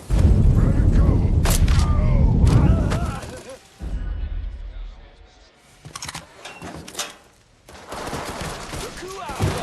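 Heavy gunfire crackles in the video game Mafia III, with rapid bursts of shots and booming impacts that come in waves and briefly drop away, mixed with shouting voices.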